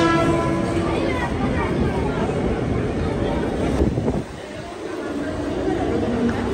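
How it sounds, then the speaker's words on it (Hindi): Mumbai local train pulling into Andheri railway station bound for Churchgate: a loud, continuous rumble and rattle of carriages that drops off sharply near the end, leaving quieter station ambience. "अंधेरी रेलवे स्टेशन पांच नंबर से जाएगी चर्च गेट के लिए, आ गई।"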